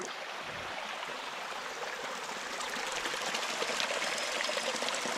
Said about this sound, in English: There's a nice little spring or a fissure there.